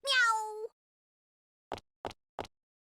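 A cat character in the fighting game BlazBlue: Calamity Trigger gives one clear, close meow, followed after a pause by three short, evenly spaced soft thuds.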